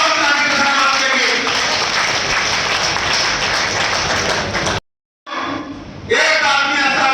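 Loud, dense crowd applause at a Congress party political meeting, with hands raised in thanks for Rahul Gandhi. It continues steadily, drops out briefly near the end, then resumes, with voices mixed in.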